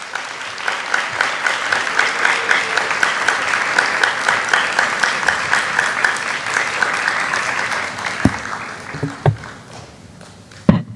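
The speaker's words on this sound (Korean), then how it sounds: "우리 집사님 나오실 때 따뜻한 박수로 환영하도록 하겠습니다." A church youth-group congregation gives sustained, warm applause welcoming a speaker to the front, with steady clapping for several seconds that thins out into a few isolated claps and footsteps near the end.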